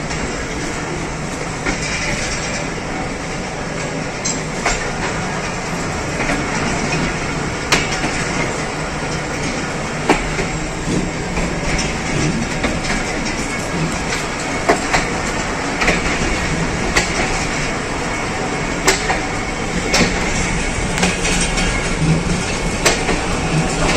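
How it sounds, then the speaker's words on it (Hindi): The 46 Down Pakistan Express pulls out of Gujar Khan station, a steady rumble of the moving train with repeated clickety-clack wheel clicks over rail joints, heard from on board. "दो मिनट स्टॉप के बाद गुजर खान से 46 डाउन पाकिस्तान एक्सप्रेस रवाना हो रही है"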